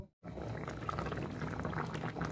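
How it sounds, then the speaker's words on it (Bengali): A vegetarian curry of cauliflower, potato and paneer bubbles in a pot, a continuous close, soft bubbling and simmering that starts after a brief silent moment and carries on evenly without any talking. "আমার ফুলকপি আর আলু দেওয়ার পর ফুটে উঠেছে।"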